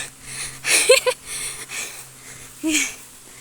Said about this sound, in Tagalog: Hinihingal na naman ako.